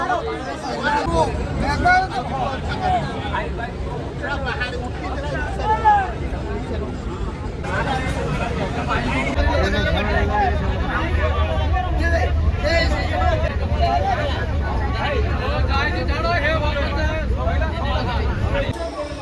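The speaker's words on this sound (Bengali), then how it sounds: "ভিড় কাকে বলে দেখেন একবার।" Dense crowd packed onto a railway station platform at Balasore during the Rath Yatra festival, a loud continuous babble of many voices with shouts rising over the hubbub, a voice speaking nearby.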